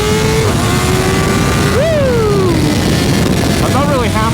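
Loud, close engine note from a BMW M1000R with stock exhaust: a steady drone, a sharp rev rise and falling downshift, then further quick blips over constant wind noise, with a brief voice exclaiming.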